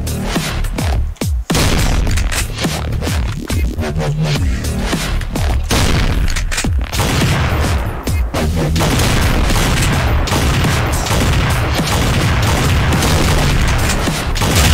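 Video game sniper fight against Shrek: loud, dense bursts of gunfire and booming blasts that go on almost without a break, a chaotic barrage with a few brief dips.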